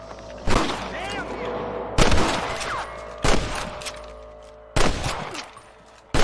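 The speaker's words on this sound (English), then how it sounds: "I can hear more gunshots." Gunfire in a Western shootout in Red Dead Redemption: four loud, sharp volleys of shots at roughly one-second gaps, each with a ringing tail, over game background sound and faint voices.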